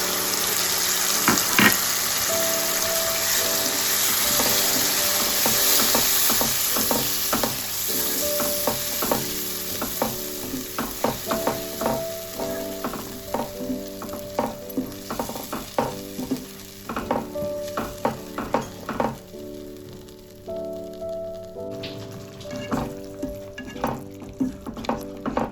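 Tomato and green chili puree hits a hot pan with fish for pomfret rossa, frying in a loud steady sizzle that settles into irregular stirring scrapes and softer bubbling, with no voices.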